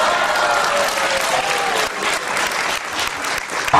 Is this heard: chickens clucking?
no